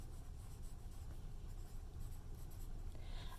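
Handwriting on paper during a math lesson, a steady soft scratching of pen or pencil running throughout with low room noise underneath and no talking.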